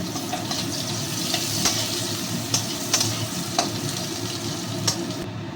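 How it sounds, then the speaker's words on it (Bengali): Onion and garlic fry with a fish head in a pan for a fish-head curry, giving a steady broadband sizzle with a few soft stirring clicks and scrapes throughout, with no talking. "এইগুলো আমি ভালো করে ভেজে নেবো মাছের মুড়োর সঙ্গে"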